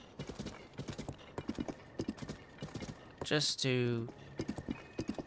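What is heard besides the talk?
horse hooves galloping, from a video game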